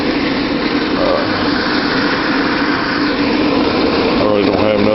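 A homemade solar air heater pushes air out of its exhaust in a steady, loud broadband rush that runs unbroken throughout.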